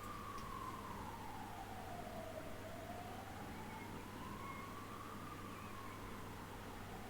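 An ambulance siren wails outside, its tone rising and falling in slow sweeps over a steady low hum, with no voices over it.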